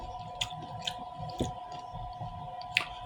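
A strawberry is chewed close to the mic during a mukbang, giving soft wet squishing bites in an irregular rhythm over a faint steady hum, with no talking.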